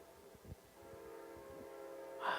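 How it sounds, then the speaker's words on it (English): A train draws near with a low rumble and rising rail noise, swelling louder toward the end as a brighter horn-like tone cuts in. "Here comes the train. Here's the train."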